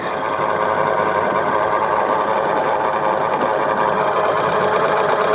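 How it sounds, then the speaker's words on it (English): Propeller of an Aiper Surfer S2 solar-powered pool skimmer, a close, steady, rapid mechanical whirring and buzzing that holds constant throughout. "going to move it to the front for the front propeller sound"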